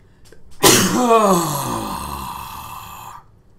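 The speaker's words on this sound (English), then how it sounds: "I have a sneeze coming." A single loud human sneeze bursts out after a brief intake of breath, with a sharp onset and a long trailing exhale before fading to quiet.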